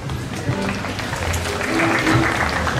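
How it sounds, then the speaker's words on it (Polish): At an outdoor harvest festival (dożynki) in Gmina Kozy, a crowd claps in a dense, steady patter that swells slightly toward the end, with voices mixed in. "Wielkie brawa!"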